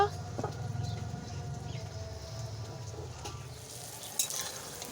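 Onions frying in a pan with fish being added, a soft, steady sizzle at low volume with occasional light stirring clinks, a faint bird call in the background.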